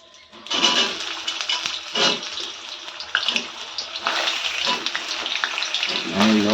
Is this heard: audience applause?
no